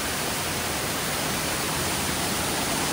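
Broadband rushing roar of the Somtirth waterfall near Nivendi village, constant and loud from nearby, a continuous wash of falling water with no voices.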